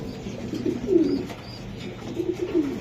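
A racer pigeon coos nearby in two soft, low, throaty phrases, one around the middle and another toward the end, over quiet background noise.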